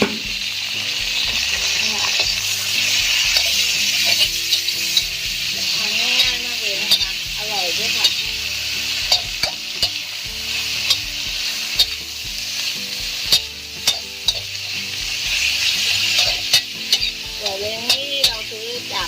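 Spinach stir-fried with oyster sauce in a pan hisses and sizzles loudly and close up, with frequent clacks of a spatula tossing the greens throughout and faint voices now and then underneath.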